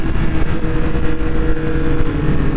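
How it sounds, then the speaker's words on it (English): A Triumph RS 1200 Speed Triple motorcycle engine roars close and continuously under throttle, its induction noise swelling in a rough, pulsing drone. "The induction noise of it is beautiful."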